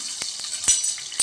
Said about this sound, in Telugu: కరివేపాకు వేస్తాను